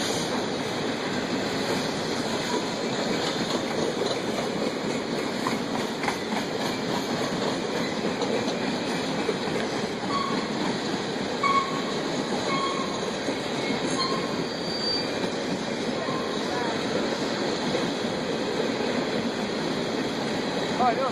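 A freight train passes at about 45 to 50 mph, with a loud, continuous heavy rumble, rhythmic wheel clatter and occasional faint metallic squeals lasting throughout.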